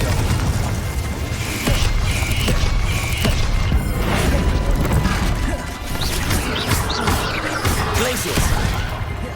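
Rapid spell combat in Hogwarts Legacy with Glacius, Confringo and Bombarda casts, a loud, steady barrage of crashing blasts, clanks and creaks layered without break, close and busy throughout.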